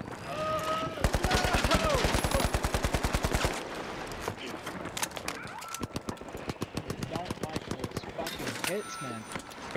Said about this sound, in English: MP5 versus AK, close range, MP5 wins